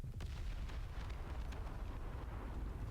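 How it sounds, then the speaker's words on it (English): Muffled, rumbling booms of battleship main guns firing full salvos in War Thunder Mobile, several deep blasts in quick succession amid a low continuous rumble, fairly faint overall. "let's keep firing full salvos at this enemy on the complete other side of the map"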